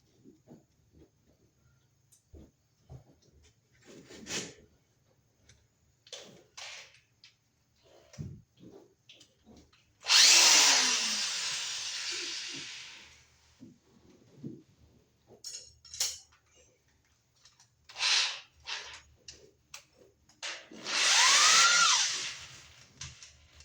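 A power drill whirs in two bursts of a few seconds each, drilling through a wall for wiremold wiring, between quieter handling clatter and scraping.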